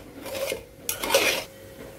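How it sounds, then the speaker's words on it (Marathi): A spoon scrapes and rubs through cooked rice in a pot in two short, close rasping strokes, with no talking. "हे भात आता मोकळा करून घेऊ"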